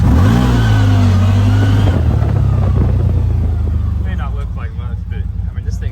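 A 2023 CF Moto Z Force 950 HO Sport UTV engine revs hard up close, climbing in pitch for about two seconds before dropping back to a rough, rumbling idle as a voice begins talking over it near the end.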